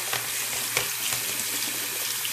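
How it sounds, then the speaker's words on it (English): Water runs and splashes steadily as plastic trays from a Marineland canister filter are rinsed off, a continuous close hiss with small clatters and no talk. "I'm gonna go ahead and rinse them off."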